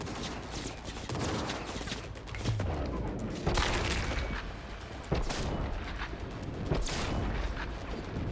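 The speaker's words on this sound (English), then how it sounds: "These grenades work pretty well." Grenade explosions during a firefight in the video game Cyberpunk 2077, several loud booming blasts a second or two apart over continuous gunfire and combat noise.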